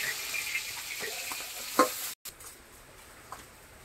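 Panch phoron spices, bay leaf and green chillies frying in leftover oil in a wok, a steady close sizzle with a few stirring clinks and a brief dropout midway, no talking.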